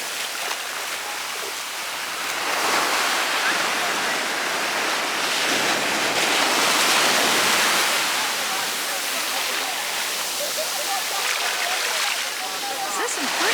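Massive, choppy ocean waves crash and roll in at Maho Beach, St Maarten, a loud, continuous broadband roar of surf that swells and eases without break.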